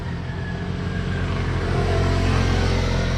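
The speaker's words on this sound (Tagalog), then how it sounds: "nadaan ngayon mga motor. Yun o, mga motor." Motorcycles passing on a road in Rizal toward San Pablo City, a continuous close engine drone that swells slightly as they go by, with no talk.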